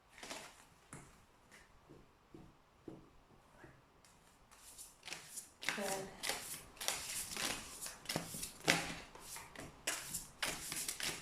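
Tarot cards shuffled by hand during a reading, a faint riffling at first that grows into repeated loud papery bursts of shuffling, with a voice talking over part of it.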